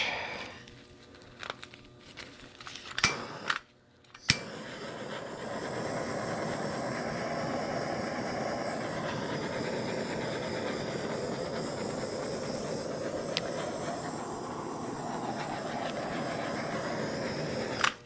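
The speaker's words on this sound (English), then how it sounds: "Grab the torch." A handheld torch flame hisses steadily over an acrylic ribbon pour on a 12 x 12 tile, a loud continuous rushing after a few clicks and knocks at the start.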